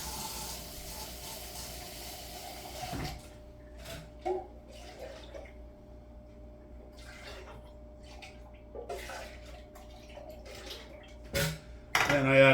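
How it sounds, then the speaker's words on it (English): Water swirled inside emptied tomato sauce cans, a hissing slosh at first, then softer scattered splashes, clinks and drips, close by with a voice talking in between. "I swirl it around to get as much sauce out of there as possible."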